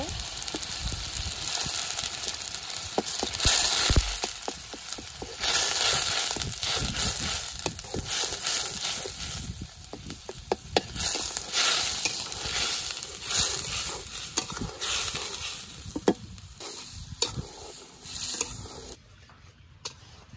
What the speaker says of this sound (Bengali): মশলাটা আমি খুব ভালোভাবে কষিয়ে নিয়েছি